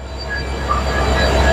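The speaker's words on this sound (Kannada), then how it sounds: "ಹೆಂಗಿದೆ ಸೌಂಡು, ಕೇಳಿಸ್ತಿದ್ಯಾ? ಈಗ ನಮ್ಮ ಟ್ರೈನ್ ಎಳಿತಾರೆ ಲೋಕೋಮೋಟಿವ್" A WDP-4 diesel locomotive hauls the Vasco-da-Gama Express, a steady rolling rumble of train and engine noise heard from aboard, continuous and moderately loud with no voices.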